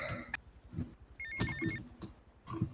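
A phone ringtone in Grand Theft Auto: Vice City trills in short repeated bursts several times against game sounds, with no one talking over it.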